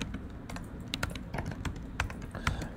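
Code is typed on a computer keyboard in brisk, uneven bursts of crisp, close key clicks, with no one talking over it.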